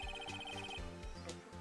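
A bright repeating electronic chime from Phoenix Wright: Ace Attorney, a quick pulsing tone over a layered game music bed, steady and loud with no talking.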